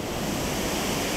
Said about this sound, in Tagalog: Mula sa mga spillway o gate ng dam, dumidiretso ang tubig sa Agno River.